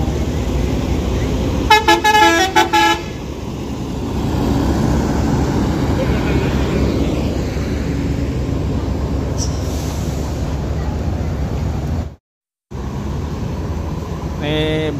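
A PO Karisma Trans coach heading for Mangkutanah pulls out of Daya bus terminal, giving a few loud multi-tone horn blasts over a rumbling engine, then a long idling drone with a brief squeal and a short cut-out; someone talks.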